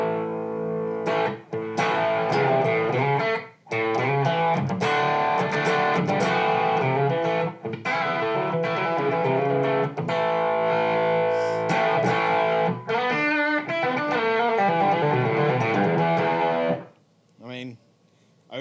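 Electric guitar played through a Peach Fuzz fuzz pedal, loud and close, with thick, saturated distorted chords and riffs that run almost unbroken before fading to short scattered notes near the end.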